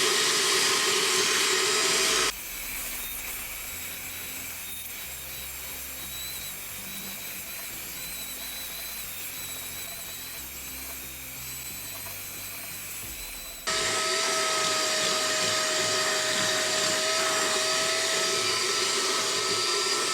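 An EGO 3 gallon cordless wet dry vac runs on turbo mode from a 4 amp hour battery, a loud steady whine and rush that drops in pitch and volume for a long stretch before surging back up.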